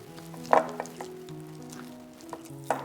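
Egg yolks being stirred into cake batter for a Chiba pattern layer cake, soft wet mixing and scraping with a couple of light utensil taps against the bowl, over a faint steady hum.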